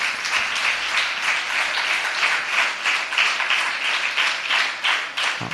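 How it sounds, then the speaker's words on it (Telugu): A church congregation at a monthly worship conference applauding together, steady, close, dense clapping that carries on without a break, with slight swells in loudness. "ప్రేమతో అందరూ చప్పట్లు కొట్టండి"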